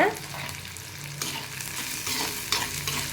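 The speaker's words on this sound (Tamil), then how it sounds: "நல்லா வதக்கிக்கோங்க" Food sizzles and fries in a pan while being stirred as vatha kuzhambu is cooked, a steady close hiss with scraping stirs throughout and no talking.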